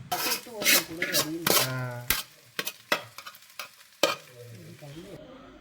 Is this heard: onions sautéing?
yes